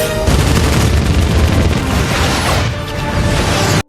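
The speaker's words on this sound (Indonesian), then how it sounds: "Kolonel dan Trudy saling menyerang" Dense gunfire and booming blasts from an aerial fight between aircraft in the film Avatar fill the clip as a loud, continuous barrage with no pauses.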